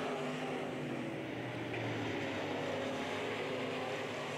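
IMCA Sport Mod race cars race around RPM Speedway in a steady, continuous engine drone, heard from a distance without any clear individual pass-bys.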